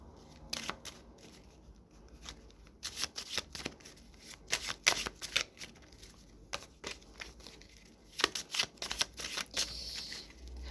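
Oracle cards being shuffled by hand during a reading, a run of crisp riffling and flicking bursts that come in uneven clusters throughout, close and fairly quiet, with no talking.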